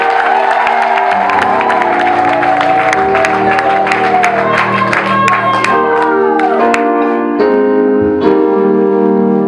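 A church congregation claps and cheers in praise to God during a lively service, steady rhythmic clapping under loud music, singing and whoops throughout.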